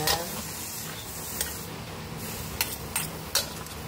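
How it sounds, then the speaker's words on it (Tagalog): Beef being stirred in a pot for kaldereta, a Filipino stew, with a soft background sizzle and a few sharp scraping clicks of the spoon against the pot. "ilagay na natin ang ating baka. Haluin natin."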